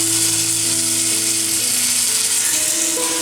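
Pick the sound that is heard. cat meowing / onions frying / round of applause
onions frying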